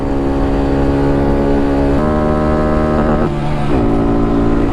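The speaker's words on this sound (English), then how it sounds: "Rev limiter again." Small motorbike loaded with panniers, engine droning loud and close with its pitch stepping up and bouncing off the rev limiter in stuttering cuts, steady buzzing throughout.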